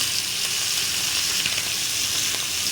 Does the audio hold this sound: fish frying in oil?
yes